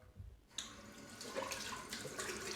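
Cold tap water runs steadily into a sink as a shaving brush is rinsed under the faucet, a continuous close splashing that begins abruptly after a brief quieter moment, with no talking.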